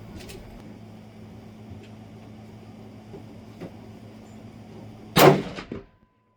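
A single shot from a 340 Weatherby rifle fitted with a quiet cap sounds as one sharp, fairly loud crack with a short tail, over a quiet outdoor background hum.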